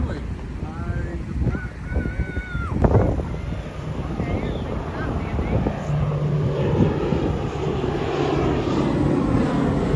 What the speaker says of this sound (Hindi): प्लेन तो आ गया।